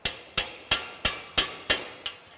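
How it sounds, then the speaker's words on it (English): Light hammer taps on a rivet set seated over a rivet, setting it through the bottom of a box: seven crisp, evenly spaced metallic strikes about a third of a second apart, close and clear, the last one softer. "lightly hammer it down, drawing the rivet up through the bottom of the box"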